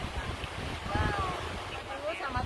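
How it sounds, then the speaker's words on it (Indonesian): Strong wind buffets the microphone on a beach at a resort in Alor, a constant loud rumbling roar with faint lapping water, under a person talking. "angin sedang bertiup lumayan kencang sehingga minta maaf kalau suaranya agak ribut ya."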